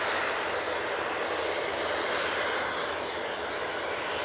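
An Etihad airliner departs with a broad, steady jet-engine roar at moderate distance, continuous and even with no voices over it.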